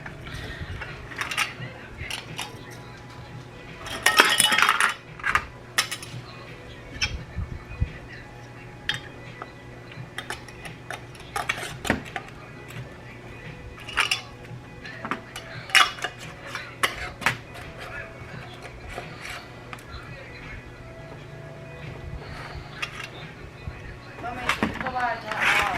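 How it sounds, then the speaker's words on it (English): Metal canning lids being set onto glass jars of pickled banana peppers in a home kitchen, with scattered clinks and taps, one louder cluster of rattles, and talking going on over the clatter. "you're going to put your sterilized lids on to the cans"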